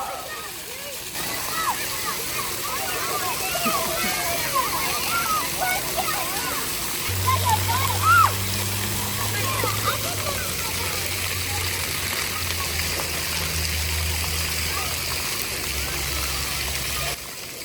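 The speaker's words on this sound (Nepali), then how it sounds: "ड्रागनको मुखबाट पानी आएर चाहिँ अरू बेला आगो आउँछ हेर्दा पानी आएछ" At a harbor spray park, water gushes continuously from a dragon's mouth in a steady splashing rush, with children's voices and chatter throughout and a low engine-like hum later on.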